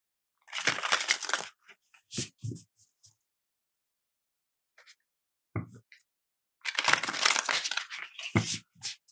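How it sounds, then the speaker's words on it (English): A new Hay House oracle card deck is shuffled by hand, giving two longer stretches of papery rustling and slapping with a few brief, scattered card sounds between them, close and moderately loud. "So I'm going to give these a quick little shuffle."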